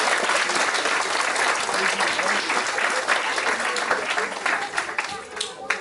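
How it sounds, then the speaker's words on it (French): Audience applause at a school orchestra inauguration, a steady dense wash of many hands clapping that runs the whole time and thins slightly toward the end, with some voices mixed in. "Donc on applaudit Stella encore une fois."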